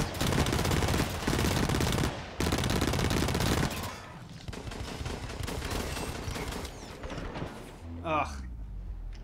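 Gunfire in the video game Blacklight: Retribution, dense rapid automatic bursts up close that ease into lighter scattered shots, with a voice briefly heard near the end.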